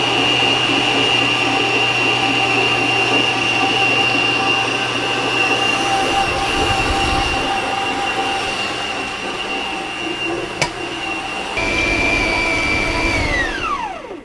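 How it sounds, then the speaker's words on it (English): A stand mixer kneads wholemeal bread dough with a steady motor whine and a constant high-pitched hum, close and fairly loud. Near the end the tone slides downward as the machine winds down. "I'm going to knead that until it becomes soft and elastic. and stretchy, and I will tell you how long that takes in my stand mixer"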